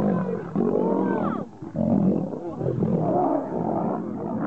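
A lion lets out a deep, rumbling roar that swells into long throaty grunts, loud and close, continuing in surges for several seconds with no speech.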